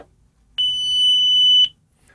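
A single loud, piercing electronic beep from a 1980s Soviet Multitone voice pager on power-up holds one steady high pitch for about a second, then cuts off, with quiet surroundings.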